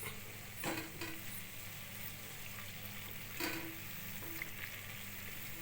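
Ajwain leaf fritters (vamaku bajji) dipped in batter and frying in hot oil, giving a steady, even sizzle with a few soft clinks of a utensil and no talking.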